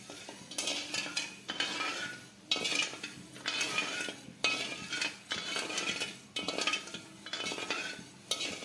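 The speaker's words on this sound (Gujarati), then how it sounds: "તો આ રીતે આપણે જેમ જેમ હલાવતા જશું એમ આપણી ખાંડ પણ ઓગળવા લાગી છે" A spoon scrapes and clinks against a pan while stirring sugar and water, in repeated strokes roughly every second, close and clear with no talking.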